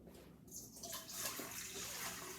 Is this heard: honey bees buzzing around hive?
no